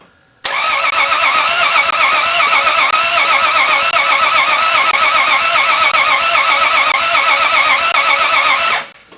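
A car engine cranking over steadily with the starter for about eight seconds, a fast rhythmic churning that is loud and close, while the sparking intake valves are checked, with no talk over it.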